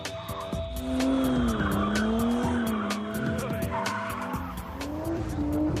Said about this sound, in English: some were spinning their tyres so much, they exploded with catastrophic results